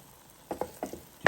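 Eggs and zucchini frying in a pan, heard as a quiet low sizzle broken by four or five short, sharp scraping bursts as the food is stirred, the last burst the loudest.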